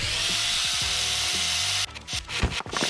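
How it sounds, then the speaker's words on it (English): Whirring dental drill grinding on a tooth in a VR dentist game, a steady buzzing drone for nearly two seconds that then breaks into short scraping bursts, close and fairly loud with no talking. "Oh, yeah, there's drilling in there."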